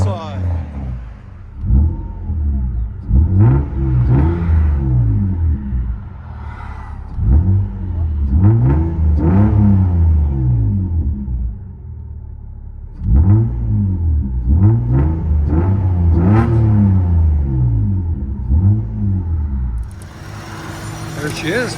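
A 1994 Toyota Mark II Chaser with a Vibrant resonator, heard from inside the cabin, revs repeatedly in loud rising and falling bursts over a low idle rumble, pausing briefly between runs.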